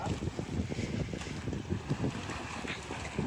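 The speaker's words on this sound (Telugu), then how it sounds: "వాతావరణం అయితే గాలి వానలో ఉంది" Gusty wind and rain buffeting the microphone in low rumbling bursts, with a rough, wet-sounding wash behind it.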